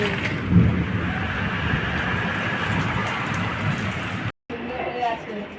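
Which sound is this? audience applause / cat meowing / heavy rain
heavy rain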